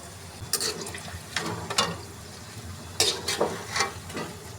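Vada pav potato balls dropped one by one into hot oil, each landing with a splashy burst of sizzling that rises and fades, with a quieter steady bubbling between additions, up close.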